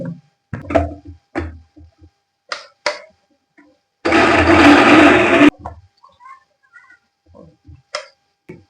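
A mixer grinder whirs loudly for about a second and a half as it grinds grated coconut for a bitter gourd curry, a dense roaring burst set between quieter kitchen clatter and clicks.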